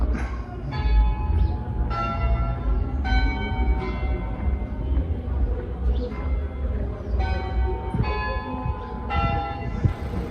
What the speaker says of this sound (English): Just chiming 12 o'clock.